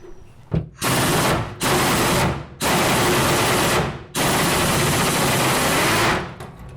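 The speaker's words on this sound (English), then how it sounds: "we want to see if we're going to be able to get these off with the impact wrench" An impact wrench hammers at the fuel tank strap bolts on a 1957 Chevrolet, firing in four loud, close, sustained rattling bursts separated by brief pauses.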